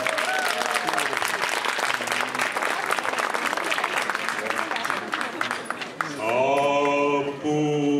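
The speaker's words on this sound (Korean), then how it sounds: "네덜란드 포르투갈에서 오신 우리 신랑의 지인분들께 큰 박수 부탁드리겠습니다" Guests at a traditional Korean wedding for an international couple applaud the groom's friends from the Netherlands and Portugal, a loud sustained burst of crowd clapping that tapers off as music begins near the end.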